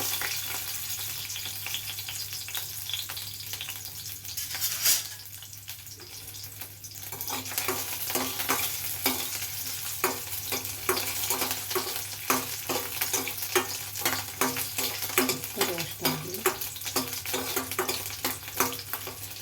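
Garlic frying in a spoonful of oil in a pan, a steady close sizzle with repeated stirring scrapes and clicks running throughout, rising after a brief lull near the start.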